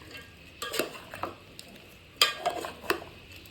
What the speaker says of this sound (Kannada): ಚೆನ್ನಾಗಿ ಮಿಕ್ಸ್ ಮಾಡ್ಕೋಬೇಕು ಎಲ್ಲ ಕಡೆ.